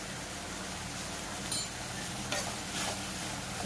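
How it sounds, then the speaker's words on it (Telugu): Tomato curry cooking in a covered pan gives a soft, steady sizzle throughout, with a few brief scraping stirs. "ఫ్రై అవుతూ మగ్గుతూ ఉంది"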